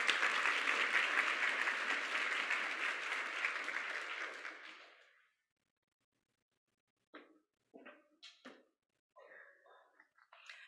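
An audience at an awards ceremony claps steadily for about five seconds, then the applause fades out to silence, followed by a few faint breaths and small noises.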